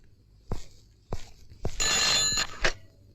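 A telephone rings in a tense police-office setting, sounding in several separate bursts of brisk, bright electronic trilling, with one longer sustained stretch near the middle and short gaps of silence between.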